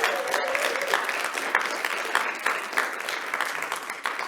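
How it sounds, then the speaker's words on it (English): A live studio audience claps in a steady round of applause, close and fairly loud, holding an even wash of hand claps without cheering or voices. "Round of applause from the people here for the people watching via the live stream tonight."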